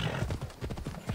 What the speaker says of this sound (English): With the horse you can actually go really fast compared to just running